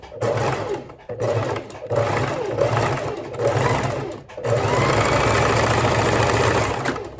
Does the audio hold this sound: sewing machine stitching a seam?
yes